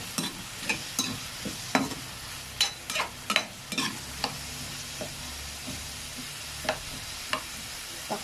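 Chopped chayote and tuna, seasoned with a little salt, sizzle softly in a pan while a utensil scrapes and stirs in irregular taps and strokes.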